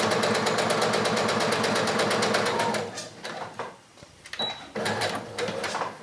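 Sewing machine stitching the side seam of a casual shirt, a steady fast mechanical whir for nearly three seconds, then it stops and quieter handling noises follow with a brief high tone.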